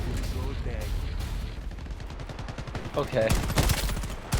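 Rapid automatic gunfire from a weapon in the first-person shooter Shatterline, sustained bursts growing louder toward the end, with a player talking over it.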